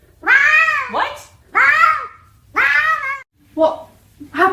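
A cat meows loudly in four drawn-out, close calls at a steady pace, the last one shorter and rougher, with a low hum underneath.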